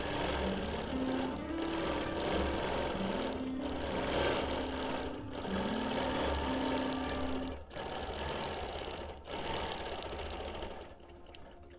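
A sewing machine stitches in free motion across a hexie quilt, a steady fast mechanical whir with shifting tonal hum as the speed changes, close and continuous, pausing briefly near the end.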